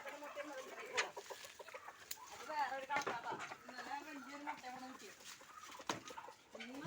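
Native country chickens cluck and call close by as they come out of their coop, with a person talking over the busy flock throughout.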